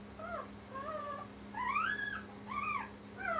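Young kennel puppies fuss and whimper for their mother in a series of rising and falling whines, a few louder cries in the second half, over a steady low hum.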